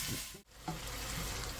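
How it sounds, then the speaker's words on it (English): Ground beef browning in a pot, giving a steady close sizzle broken by a brief dip in sound before the frying noise returns at full strength. "let this continue to cook until our ground beef is all nice and browned"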